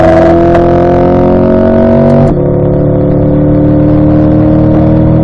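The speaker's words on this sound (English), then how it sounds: "We'll have a smooth acceleration down the straightaway here." A Chevrolet C8 Corvette pulls hard down a track straightaway, its engine note climbing steadily, then dropping sharply with a shift at about two seconds before building again, loud and close throughout with no talk.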